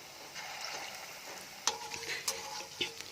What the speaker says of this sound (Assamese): এইখিনি মই মিডিয়াম টু লো ফ্লেমত ফ্ৰাই কৰিম